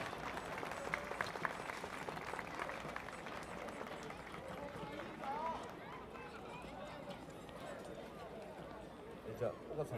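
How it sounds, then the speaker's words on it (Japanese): Faint crowd clapping at the outdoor closing ceremony of a 2017 port festival charity event for Rikuzentakata's recovery, scattered claps running on beneath a voice talking over a PA. "大きな拍手"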